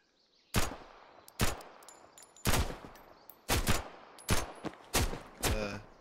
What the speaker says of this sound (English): I think I heard another gunshot around here somewhere